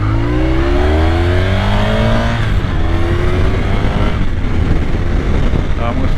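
A Honda VFR1200F motorcycle fitted with an Akrapovic slip-on exhaust revs loudly and climbs through the gears, with a brief dip at a short-shift before it pulls again. Steady wind roar runs underneath the deep engine note.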